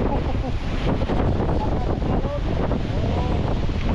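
Strong wind buffets a boat at sea off Mindanao with ocean waves crashing and rushing around it, a loud continuous roar throughout, with excited voices faintly under the noise.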